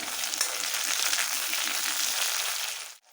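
Tomatoes sizzle and fry in hot oil in a kadai with already-browned onions while being stirred, a steady loud hiss for about three seconds that cuts off abruptly near the end.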